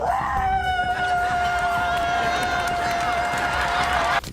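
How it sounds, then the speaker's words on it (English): Extremely high-pitched scream from an actor during a heated argument in a scene from the sitcom A Different World, held as one long, steady, piercing note over a busy background that cuts off abruptly. "suddenly screams in an extremely high-pitched voice"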